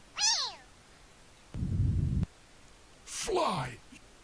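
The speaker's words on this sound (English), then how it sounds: "no, I don't want the cat meow" Two cartoonish cat meows from a sound browser in The Talos Principle level editor, each a rising then falling wail, separated by a short burst of low rumbling noise.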